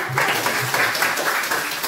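A classroom group claps steadily and fairly loudly, with dense overlapping hand claps filling the short stretch without a break.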